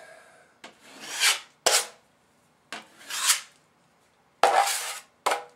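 Joint compound pressed and scraped into a drywall hole left by a doorknob, with fiberglass tape behind it: repeated close rasping swipes of a knife, each a swelling scrape ending in a sharp tap, with pauses between strokes.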